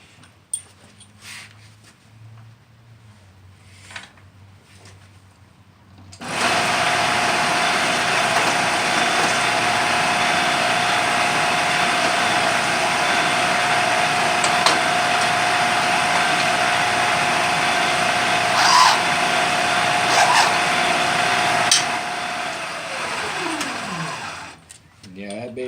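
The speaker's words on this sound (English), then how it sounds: "Hand drill would probably be good at this point." Hand drill running during a rifle conversion from 308 to 7.62x45: after quiet moments with a few clicks, a loud steady motor whine starts and holds for about fifteen seconds, then winds down.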